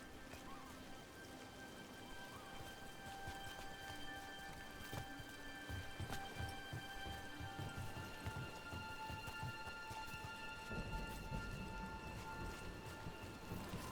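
Steady rain falls throughout a scene in the video game Dragon Age: Veilguard, a dense continuous patter with a low rumble and soft clopping footsteps in the background, no voices.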